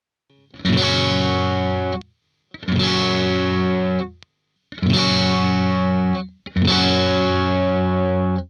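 Four heavy, high-gain distorted electric guitar chords through a Neural DSP Quad Cortex amp modeler, each sustained about a second and a half, separated by brief silences.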